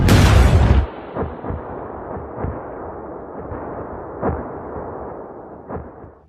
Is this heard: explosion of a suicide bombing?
yes